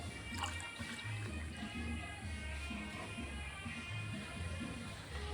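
Tamarind water being poured into a glass in a home kitchen, a steady trickling liquid stream running throughout, close and fairly quiet.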